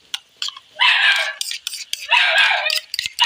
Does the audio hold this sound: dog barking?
yes